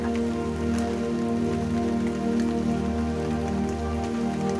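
Steady rain falls on a surface in a dense, unbroken patter, loud and close, laid over a constant low humming drone with no breaks or voices.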